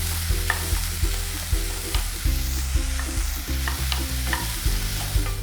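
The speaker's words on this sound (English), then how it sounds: "we'll saute the onion and garlic until the onions become nice and soft and tender for about a couple of minutes" Onion and garlic sauté in oil in a pan, giving a steady sizzle with repeated scraping stirs at a regular rhythm, up close and without voices.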